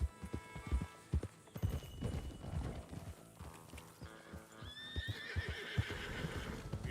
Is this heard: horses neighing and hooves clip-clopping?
yes